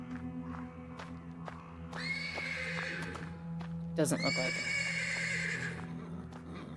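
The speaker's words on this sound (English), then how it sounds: "The persistent neighing of a horse can be heard from the stables." In the video game Black Book, a horse gives two loud whinnies, close and drawn out, over faint ambient clicks and steps. Someone speaks briefly.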